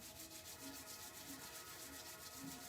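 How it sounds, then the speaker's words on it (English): Hands rubbed together briskly during a qigong routine, a steady close swishing friction with a soft rhythmic pulse throughout. "We're going to rub our hands together to harvest our Qi"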